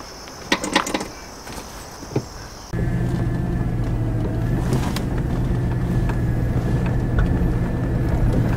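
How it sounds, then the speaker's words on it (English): An LS-swapped Volvo that has not been driven in a while pulls away after a few light knocks and clicks, its V8 settling into a loud, steady rumbling drone close by. "let's take the old LS Volvo for a quick ride"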